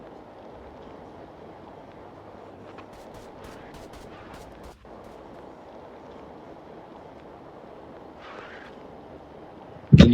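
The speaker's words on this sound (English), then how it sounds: "you can hear the shots ring out everywhere" Scattered gunshots crack faintly in the distance in a roleplay city video game, a quick cluster of distant pops over a steady low engine-like drone, with no talking.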